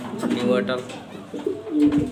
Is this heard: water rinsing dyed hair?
no